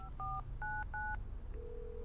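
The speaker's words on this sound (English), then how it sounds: "she rang Kate at 7:15." A telephone number being keyed in, a handful of distinct touch-tone dialing beeps in an irregular rhythm followed by a steady tone, fairly clear over low background rumble.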